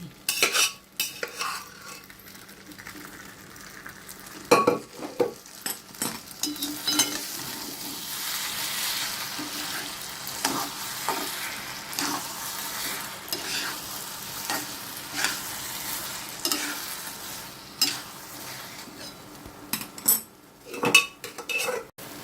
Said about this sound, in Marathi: आता असं रवा टाकायचा लापशी टाकायची